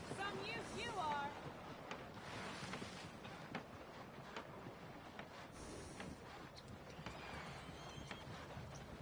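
Horse hooves clip-clopping in the video game Red Dead Redemption 2, a faint, steady trot under wind-like ambience with a voice speaking briefly.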